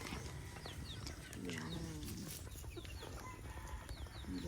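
White Kelso chickens in a free-range area cluck and chirp over and over, with one rooster crowing from farther off, all over steady outdoor noise.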